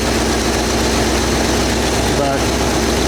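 The engine of a 1968 Buick LeSabre, pulled from thirty-five years in scrap, runs steadily at a rough low idle, loud and unbroken throughout.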